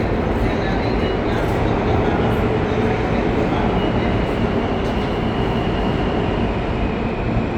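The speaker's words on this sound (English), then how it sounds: "It should be the F train or the M train." A New York subway train, an F or M line car, rumbles into an underground station with a loud steady roar and faint high wheel squeal; voices are faintly present.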